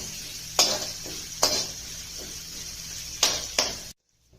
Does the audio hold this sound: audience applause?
no